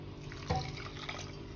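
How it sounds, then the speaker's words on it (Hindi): Water poured from a glass into a cooking pan for halwa, a short quiet splash and trickle heard up close. "1 गिलास हम पानी डालेंगे"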